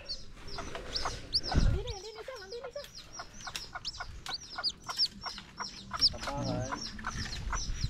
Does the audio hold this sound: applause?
no